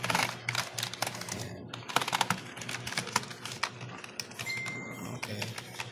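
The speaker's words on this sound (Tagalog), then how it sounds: "Check keyboard tayo. Ito po." Steady, fairly quiet tapping on a computer keyboard being tested, with a rapid, uneven run of key clicks and occasional louder strikes over several seconds.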